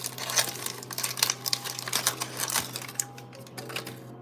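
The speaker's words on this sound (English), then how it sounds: "Let's cut off this parchment paper." Parchment paper being cut in a home kitchen while making vegan, gluten-free banana bread, giving a steady run of close, crisp snips and crinkles over a low background hum, with no talking.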